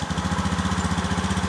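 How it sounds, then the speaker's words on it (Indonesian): Scooter CVT transmission idling with a clunking, knocking fault before pulling away, heard as a steady low rhythmic engine throb with regular pulsing knocks, close and continuous without speech. "Dengarkan suaranya nih CVT-nya nih"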